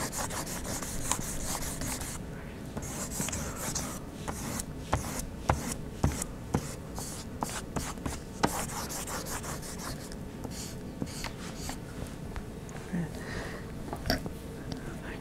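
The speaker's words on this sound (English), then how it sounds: "I'm going to switch to the rubber eraser here." Rubber eraser rubbed on paper to erase a pencil drawing of a bottle, giving close, quiet scratchy strokes in uneven bursts with short pauses between them.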